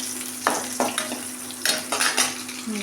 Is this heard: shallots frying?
yes